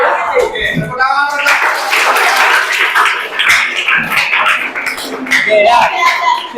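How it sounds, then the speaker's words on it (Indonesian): A classroom of ninth-grade students claps together in a burst of applause, mixed with lively children's voices and shouts throughout. "Oke, tepuk tangan."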